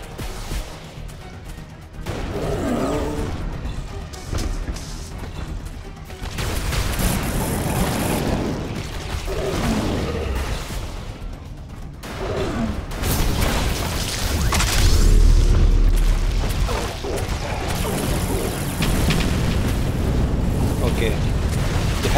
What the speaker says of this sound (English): Heavy artillery are attacking them,